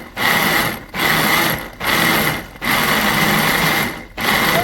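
A blender pulses hot sauce ingredients in four loud whirring bursts separated by brief pauses, close by with a harsh motor whine and no talking.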